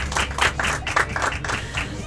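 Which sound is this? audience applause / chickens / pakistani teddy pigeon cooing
audience applause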